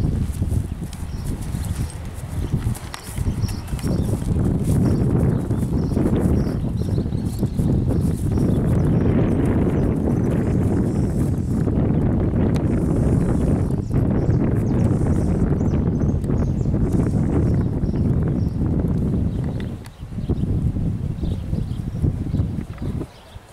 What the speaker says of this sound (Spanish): Caballo que se pasea hermoso.